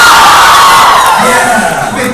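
Audience at the NJCON 2012 convention panel cheering and whooping loudly, a dense roar of crowd voices filling the room and tapering slightly toward the end.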